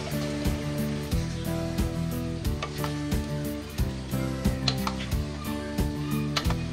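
Cow head meat frying in spice paste for a Bangladeshi beef head curry, a steady loud sizzle with repeated scraping stirs of a utensil against the pot in a regular rhythm.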